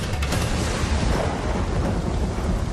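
A video-game thunderstorm rumbles loudly and continuously, with thunder rolling over the steady wash of heavy rain and no voices.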